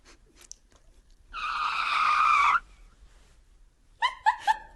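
A tire skid sound effect: one sharp, loud screech lasting just over a second, with faint squeaks before it and a quick burst of three short squeals near the end.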